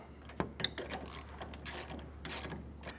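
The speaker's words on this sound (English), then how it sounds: "we're going to be using a 1/2 inch socket along with a 2-inch extension so that we can clear the bracket" A ratchet with a 1/2 inch socket on a 2-inch extension tightens a nut on a trailer crossmember bracket, giving a run of quick, close clicking bursts with a faint steady hum beneath.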